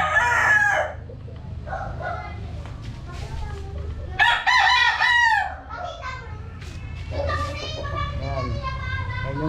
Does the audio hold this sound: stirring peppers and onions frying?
no